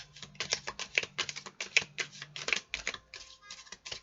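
Oracle cards being shuffled by hand, a rapid close patter of light papery flicks in quick bursts, no talk.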